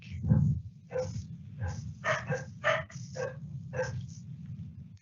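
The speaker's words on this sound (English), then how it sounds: "I've got a bit of background noise there, councillors, with barking dogs" Several dogs bark repeatedly in the background, a run of sharp yaps and barks over a low steady hum.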